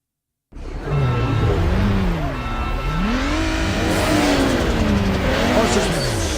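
A game car revs hard in a Need for Speed Underground drag race, the engine note climbing and dropping through gear shifts, loud and continuous after a brief silent start.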